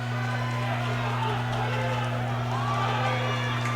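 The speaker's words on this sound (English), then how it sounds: "You hear the crowd reaction." Crowd cheering and noise filling a high school gym during a boys basketball game, Georgetown Eagles student section, a steady loud roar with a constant electronic hum underneath.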